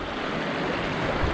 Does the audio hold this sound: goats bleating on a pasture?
no